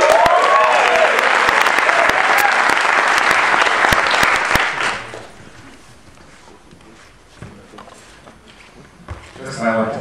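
Audience applause for a speaker at a presentation event, loud and sustained with dense clapping for about five seconds, then breaking off into scattered claps and murmuring room noise, with a brief swell near the end.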